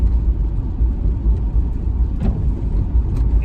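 A car engine hums steadily from inside the cabin during a test drive of a cheaply bought salvage-auction car, a constant low rumble with no talking.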